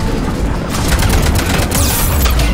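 Dense, loud gunfire from the video game Mass Effect 3, a continuous fusillade of overlapping shots and booms filling the whole stretch without a break.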